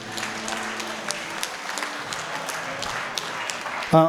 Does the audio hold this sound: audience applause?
yes